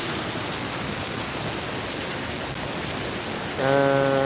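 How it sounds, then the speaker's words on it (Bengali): Heavy rain pours in Singapore as a dense, steady hiss, close and loud, until a tonal horn-like sound cuts in near the end. "প্রচুর পরিমাণ বৃষ্টি হচ্ছে"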